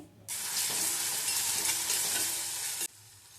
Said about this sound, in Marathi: ते सुद्धा आपल्याला याच्यामध्ये टाकून छान परतवून घ्यायचं आहे सॉफ्ट होईपर्यंत